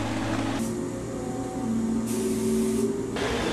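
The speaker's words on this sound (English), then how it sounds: "spray it with four or five coats of lacquer" A spray gun hisses lacquer onto wood in bursts, switching on and off over a constant low mechanical hum, close and steady.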